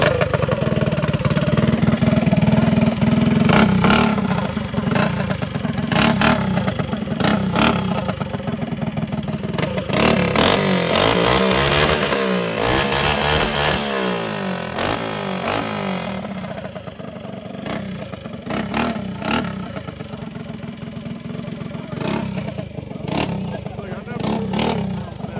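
Mini bikes revving loudly in a crowd on the 6th Street Bridge, with sharp repeated throttle blips and sustained engine roar over idling, while people talk and shout nearby.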